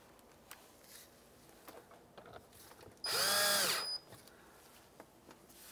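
Cordless power drill whirring for about a second as it backs out a screw during a fuel pump module replacement on a 2003-2011 Honda Element, close and loud against a quiet workshop.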